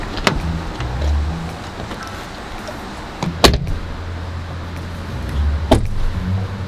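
Car doors thud open and shut with sharp knocks in a film scene, over a low idling engine rumble and some rustling as people get into the vehicle.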